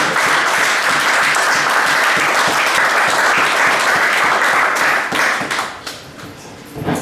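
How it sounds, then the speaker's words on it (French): A church congregation at an evangelical seminar claps loudly for the preacher, dense and sustained applause from a large crowd that begins to thin and scatter near the end. "Nous applaudissons l'homme de Dieu."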